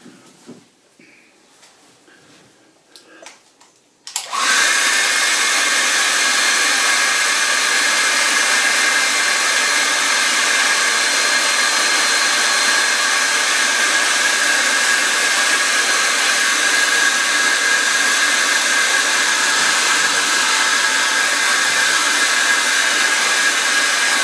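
A hair dryer blows on a wet winter-lane painting, switching on after a few quiet seconds with soft handling sounds, then roaring steadily and loudly close by for the rest of the clip.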